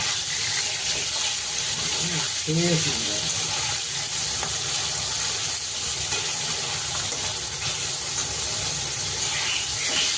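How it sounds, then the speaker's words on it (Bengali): Fish frying in hot oil in a home kitchen for a spicy red sea-fish curry, a steady close sizzle and hiss running throughout with a brief clatter partway through. "গরম হয়ে গেছে, এই মাছটা সুন্দর করে ভেজে নেব। ধোঁয়া উঠছে দেখো।"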